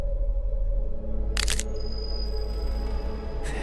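Pieces of a face crack and fall away in a horror video game, a sharp crackle burst followed by a thin ringing tone over a low, steady ambient drone.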